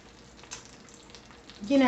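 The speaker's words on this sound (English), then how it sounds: "my butter is sizzling a little bit" Soft, steady crackling sizzle of butter in a hot non-stick pan, continuous and close, with a brief louder scrape at the end.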